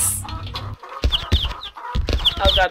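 Cartoonish chickens cluck in the video game Earthworm Jim 3D, several short squawking bursts repeating close and loud over game music, with a brief gap of quiet between the clusters.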